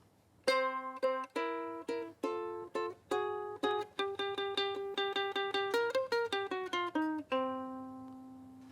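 A ukulele plucks a bluesy intro alone, with clear picked notes and strummed chords in a steady rhythm that ends on a ringing final chord.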